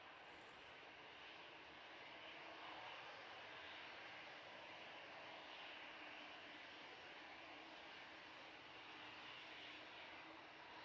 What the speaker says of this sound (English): Easyjet about to touch down.